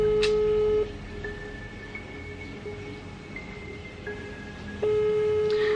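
An unanswered phone video call rings out with steady electronic tones, a long sustained beep pattern that repeats with short gaps, fairly quiet over low background hum.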